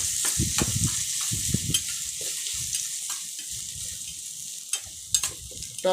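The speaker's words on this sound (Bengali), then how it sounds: "এটাকে একটু নেড়ে দেবো নেড়ে পেঁয়াজটাকে একটু ভাজা ভাজা করে নেব" Onion fries with salt in a pan, a soft steady sizzle under irregular scraping stirs and occasional light knocks of the spoon against the pan; no one speaks.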